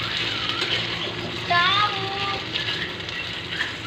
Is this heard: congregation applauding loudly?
no